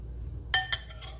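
Metal utensils clink against a pan while sardines are cut up in it for fettuccine with butter, a few quick, light taps and scrapes close by in a quiet kitchen.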